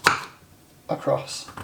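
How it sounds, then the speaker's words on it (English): Knife chopping butternut squash into small cubes on a board: a sharp chop at the start, then a pause and a few more cuts later, close and crisp, with a brief spoken word in between. "we can take this and just cut it into cubes which are just a couple of centimetres"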